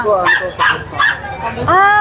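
Dogs at an outdoor pet market bark and yip in quick bursts, with a few whimpering, whining calls rising near the end, close and loud, while people talk in the background.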